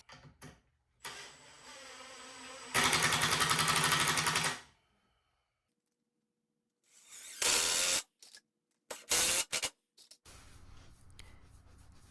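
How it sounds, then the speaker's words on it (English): A power drill drives support screws into the wooden base of a workbench, with several loud whirring bursts separated by pauses and short stop-start pulses near the end, close up and with no speech. "So now I'll just go in and put the support screws into the base"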